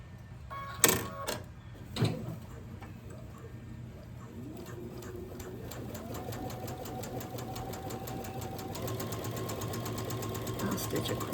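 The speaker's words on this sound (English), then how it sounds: "I'm gonna take it to the sewing machine and I'm gonna stitch a 1/4 inch on this side" A sewing machine stitches quilt block pieces with a quarter-inch seam, starting after a few handling clunks and building into a steady, rapid mechanical whir that continues close and clear to the end.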